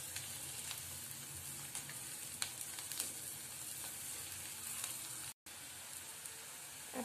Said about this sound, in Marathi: आपण याच्यामध्ये आता शेंगदाणे टाकून घेणार आहोत। शेंगदाणे तुमच्या आवडीनुसार घेतले तरी चालतील। आता हे छान परतून घ्यायचं आहे।